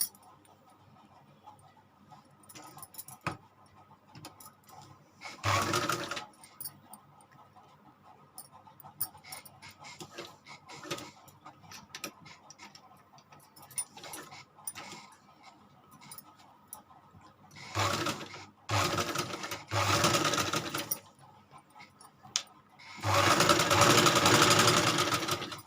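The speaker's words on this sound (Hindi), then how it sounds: "अब इसे बीचों बीच सिलाई लगानी है।" A sewing machine stitching suit fabric with paper pasting laid on top, running in several separate bursts of rapid mechanical whirring and clatter, with quieter gaps of handling noise between them.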